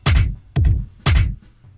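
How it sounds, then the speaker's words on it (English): A programmed drum beat with snare and an extra kick drum, made in a drum sequencer: three loud, punchy hits at an even pace, each a low kick thump joined by a bright snare crack, heard alone with no talking. "that back with the extra kick there is going to sound like this"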